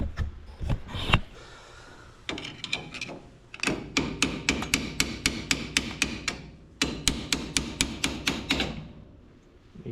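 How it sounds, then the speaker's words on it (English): A big hammer striking a steering part on a 1969 International LoadStar truck, loud close metallic blows landing in rapid rhythmic bursts of about a dozen hits with short pauses between. "Just need to give that a couple smacks. Got my big hammer here."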